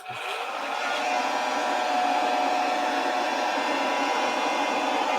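A worn-out hair dryer whirs steadily and loudly, a constant high-pitched motor hum that builds in the first second and then holds even.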